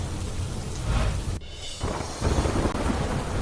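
Heavy downpour with rolling thunder in Devalki village, Vadia, Amreli district, Gujarat, a steady loud roar of rain with a brief lull before the storm surges back.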